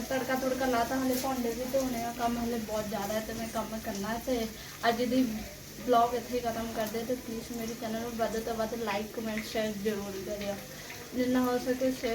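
Cumin, garlic, onion and green chili fry in a pan with a moderate sizzle and occasional stirring, heard under someone talking throughout.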